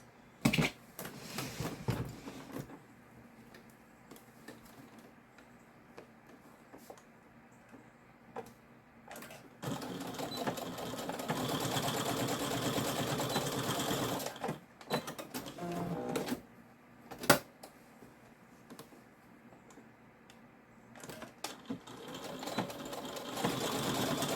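Quilted bag pieces run through a sewing machine in bursts of fast, rattling stitching, with short pauses between runs and quiet handling noises.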